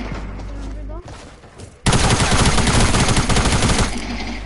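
Fortnite gunfire with a shotgun in play, a sudden loud, dense barrage of close shots lasting about two seconds after quieter game noise, then fading to a rumble.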